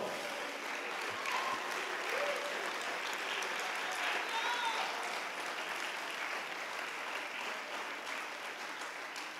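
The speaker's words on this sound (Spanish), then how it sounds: "Denle un aplauso al Señor Jesucristo." Church congregation applauding together, a sustained, dense clapping that fills the room evenly at steady loudness throughout.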